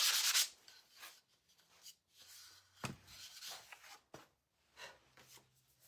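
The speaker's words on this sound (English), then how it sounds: "I am going to sand this a little bit" Quiet hand sanding of a small wooden ornament shape, with soft, intermittent rubbing strokes, a brief louder scrape at the start, and a few sharp taps in between.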